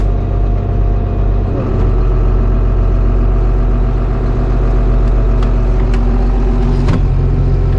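Tractor engine powering a dairy feed mixer loaded with haylage, corn silage and gluten, running steadily at around 1400 RPM; a loud, continuous low drone throughout with no talking.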